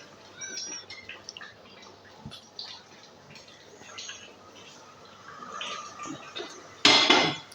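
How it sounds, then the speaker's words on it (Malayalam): A utensil mixes and stirs chicken majboos rice in a pot, with scattered light clinks and scrapes against the metal and a louder burst of clattering near the end. "നല്ലപോലെ മിക്സ് ചെയ്ത് ഇളക്കി കൊടുക്കാം"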